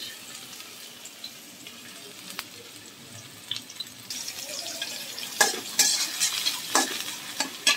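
Chopped onion hits hot oil in a wok, starting quiet with a few clinks before a louder sizzle and frying hiss builds and continues with stirring noises.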